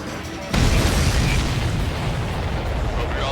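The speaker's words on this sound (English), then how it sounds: "That's a confirmed direct hit by the missile." Missile explosions in the Ace Combat 7 flight combat video game, a sudden loud blast that swells into a sustained roaring rumble.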